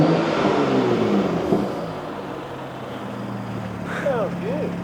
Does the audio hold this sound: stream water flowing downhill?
no